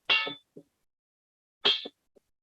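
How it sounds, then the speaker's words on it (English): Struck bell, a gift used to open a Yupik traditional cooking session, two separate clangs about a second and a half apart, each ringing briefly with a faint after-tap, in a quiet room. "I would just like to ring this beautiful bell that was gifted to me"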